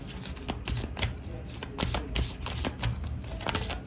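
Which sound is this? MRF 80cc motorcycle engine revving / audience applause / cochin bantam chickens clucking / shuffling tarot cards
shuffling tarot cards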